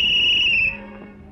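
A whistle is blown once, a loud, steady, shrill tone held for just over half a second before it cuts off, leaving a quiet room behind it.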